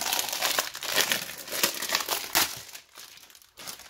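A Panini Dragon Ball Super sticker packet being torn open and crinkled by hand: close, bright rustling and crackling of thin wrapper in a quick, irregular run of bursts, with no talk.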